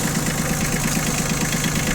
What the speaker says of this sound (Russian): Работает трактор достаточно ровно, не глушим теперь на морозе